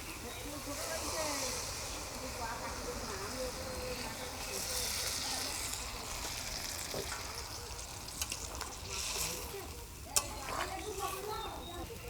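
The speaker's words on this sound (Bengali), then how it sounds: "গরম জল দিয়ে দিলাম।" Hot water goes into a pot of frying taro seasoned with salt, setting off a steady hiss and sizzle that bubbles on continuously, while someone talks over it.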